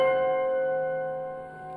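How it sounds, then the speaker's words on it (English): A single resonant tubular bell rings out with a sustained metallic tone that slowly fades. "And at that point, the tubular bells go."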